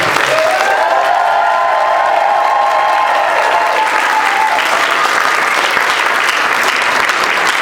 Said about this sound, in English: And let's give the art show a round of applause,